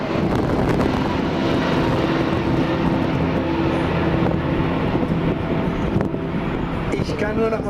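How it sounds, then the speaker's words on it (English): Large fixed-wing aircraft flown by test pilots in steady, continuous engine roar with a tonal drone, loud and sustained throughout, with a public-address voice talking over it. "are able to maneuver the aircraft just like this"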